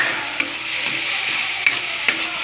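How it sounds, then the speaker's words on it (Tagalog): Sautéing in a pan for pork kinamatisan gives a steady, bright sizzle up close, broken by a few sharp clicks of a utensil against the pan, with no voices. "Tayo ay naggigisa."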